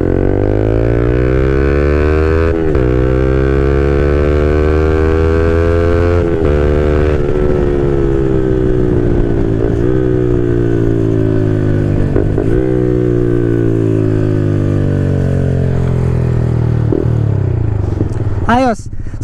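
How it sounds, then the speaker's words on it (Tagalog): Onboard sound of a Yamaha XSR 155 with an SC Project CRT 470mm exhaust: a loud, close engine drone that rises and falls through repeated gear changes, pitch climbing under acceleration before brief dips, ending with a quick rev. "So yun yung onboard sounds ng SC Project CRT 470mm sa Yamaha XSR 155."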